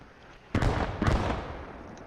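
Two heavy mortar shell impacts land in Post Scriptum, about half a second apart, each a loud broadband boom that decays into rumble. No talk is heard.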